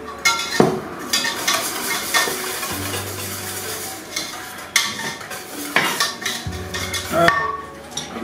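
A spoon scrapes and clinks against a bowl while raw beef tartare is stirred, making irregular close metallic taps and scraping with a faint low hum behind.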